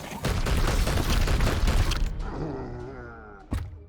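Weapons firing in Warhammer 40,000: Chaos Gate - Daemonhunters, a loud rumbling volley that swells and then fades into a ringing, wavering tail. One sharp thud lands near the end.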